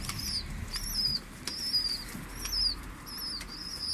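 Bango pigeons fight over feed, their wings flapping in repeated quick bursts close by over a low, noisy background.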